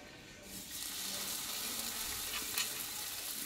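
Semolina tiffin snacks fry in a shallow layer of oil with a soft, steady sizzle and light crackle. The sound stays fairly quiet and even throughout, with no talking over it.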